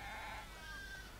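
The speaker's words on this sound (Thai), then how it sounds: "แกะเนาะมีแกะเยอะ" A single sheep bleating in The Last of Us Part II farm scene, one short wavering call that is faint and distant, heard over a low background hum.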